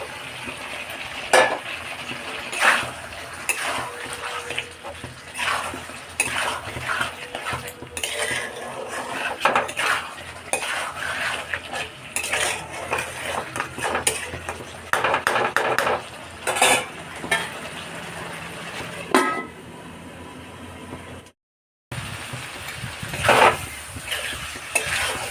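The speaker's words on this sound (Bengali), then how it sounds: "এই সময় আমি এই যে ভাজা আলুগুলো দিয়ে কষাবো" Fried potatoes are stirred into a spice masala in a pan, a spatula scraping and clanking against the metal in an uneven rhythm over a low, steady sizzle.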